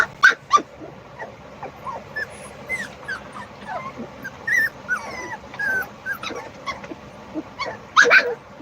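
A mother dog whimpers and yelps near her puppies, with a string of short, high-pitched whines and squeaks coming in irregular bursts, close by, with one louder cry near the end.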